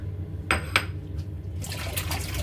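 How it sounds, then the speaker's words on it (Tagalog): Sliced broccoli washed under running water, with close splashing and trickling, a couple of brief sharper splashes early on, then a steady rush of water toward the end. "hugasan natin yung broccoli"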